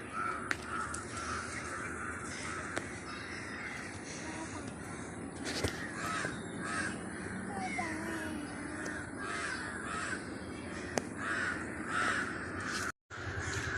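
Crows caw repeatedly around a village, their calls rising over a steady, busy outdoor background of other birds and ambient noise, with a brief dropout near the end.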